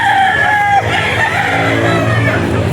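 A gamefowl rooster at a pet market gives a loud, close crow that trails off, with other birds clucking and crowd noise behind it.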